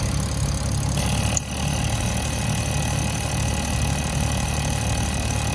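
A Toyota Aristo's 2JZ-GTE VVTi engine idles after a cold start with a steady, even hum and low rumble, close and constant, with a brief click partway through.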